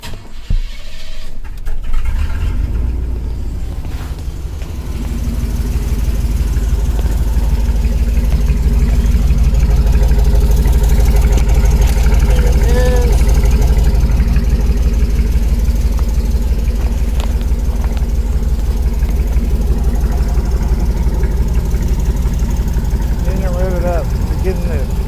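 Truck engine running near the microphone, its exhaust giving a loud, steady low rumble that swells slightly after a rough start and then holds an even idle-like drone throughout.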